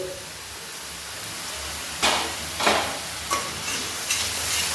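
Spices with salt, turmeric and red chili powder sautéing in oil for boal fish curry, a soft steady sizzle with several distinct spatula scrapes and stirs in the second half.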